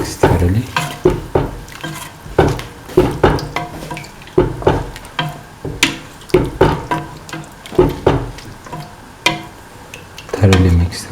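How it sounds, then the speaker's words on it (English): A spoon stirs coconut milk into a bubbling kidney bean and tomato stew in a pot, giving repeated rhythmic scraping and sloshing strokes about every half second, close and clear with no talking. "Thoroughly mix the coconut milk with the rest of the mixture"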